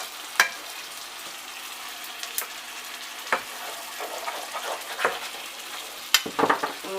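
Vegetables and spices sauté quietly in a pan under a low hiss, broken by several sharp scraping and clattering strokes of a spoon stirring, spaced irregularly.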